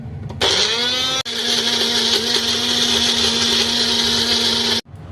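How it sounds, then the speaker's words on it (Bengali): Close, loud blender whirring steadily for about four seconds as it grinds onion and tomato together into a paste, the motor note dropping once briefly before stopping. "এবার আমি এর মধ্যে পেঁয়াজ আর টমেটোটা একসাথেই আমি পেস্ট করে নেবো"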